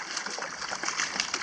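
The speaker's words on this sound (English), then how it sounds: "there's Daisy in the water" A dog splashes through water outdoors, giving a brief, close burst of choppy sloshing and trickling water noise.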